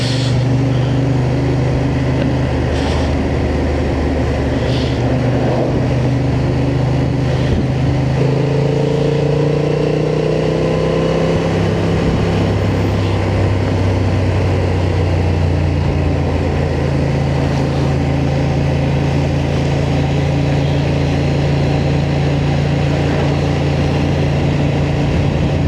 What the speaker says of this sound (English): this is my last ever ride on the Honda Transalp